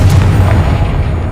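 A Confringo blasting spell from Hogwarts Legacy goes off as a single loud, deep booming blast that rumbles briefly and fades.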